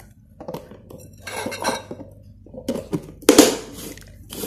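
A lid being closed on a container of salted egg yolks with herbs, a few short clinks and scrapes of handling, ending in one sharper knock.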